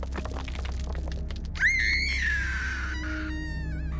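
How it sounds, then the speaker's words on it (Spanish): A sharp crash and clatter gives way to a long, high, piercing scream that wavers and fades, a dramatic horror sound effect with no speech. "Se escuchó un estruendo seguido por un grito desgarrador."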